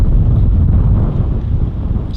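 Strong gusts buffet the microphone at a harbor customs stop, a loud, low roaring rumble that surges and eases in waves with no voices.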